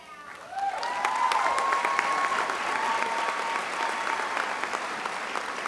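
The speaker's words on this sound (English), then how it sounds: "One more round of applause." Steady, full applause from a commencement audience honoring graduating students, rising after a soft start and holding evenly, with a faint whistle-like tone drifting through early on.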